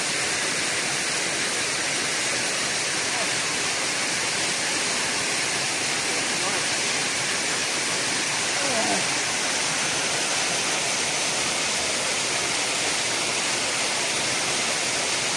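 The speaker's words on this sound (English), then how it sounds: "There's the final waterfall." A waterfall at Complexo Paraíso in Delfinópolis, Brazil roars as a constant, dense rush of falling water, loud and close, with a brief faint voice barely showing through near the middle.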